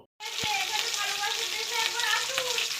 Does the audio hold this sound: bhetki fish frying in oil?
yes